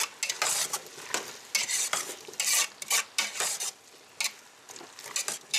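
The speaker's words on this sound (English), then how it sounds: "Give that a good mix." Potatoes and seasonings sautéing for potato soup are stirred in a pot, irregular scraping strokes of a utensil over a faint sizzle, close and fairly quiet with no speech.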